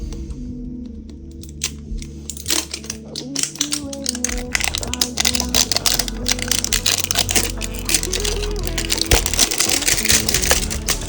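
Pokémon booster packs being torn open and unwrapped by hand, a close series of crinkling plastic rustles and sharp tearing crackles. A voice speaks over the handling.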